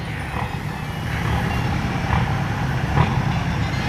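Steady reversing beeps repeat at an even pace over a rumbling truck engine nearby, the tone pulsing roughly once a second.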